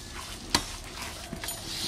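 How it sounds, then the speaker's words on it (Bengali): Rice is mixed with salt in a pan before frying into homemade puffed rice, a soft gritty stirring rustle with one sharp scrape or knock, quiet and close. "ভালো করে মাখাবো নুনটা যেন গায়ে ভালো করে মেশে।"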